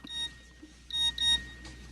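A phone text-message notification sounds as a series of short, clear electronic beeps, three or four bursts in quick succession against a quiet room background.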